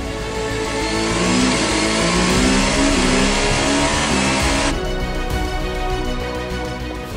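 Rally cars at a Sunday rally race, with a loud continuous engine roar and revving that swells and then fades as the cars pass, heard alone with no voices.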